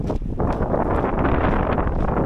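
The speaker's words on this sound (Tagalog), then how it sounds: "Yung lamig ng hangin, hampas ng hangin." Strong wind roars continuously against the microphone at Tunnel Beach, a loud, dense rumbling gust with no voices.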